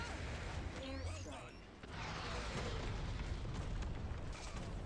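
An airstrike in the video game Tom Clancy's Elite Squad: a loud, dense explosive boom with rumbling blasts, continuing behind game sound effects and speech.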